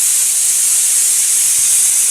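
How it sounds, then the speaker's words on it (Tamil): Steam hisses steadily from a pressure cooker whistle on a stove while a tomato gravy cooks, a loud, continuous high-pitched rush of release held for the whole stretch without a break. "இப்போது இந்த குக்கர் 3 விசில் கொடுத்துருக்குங்க."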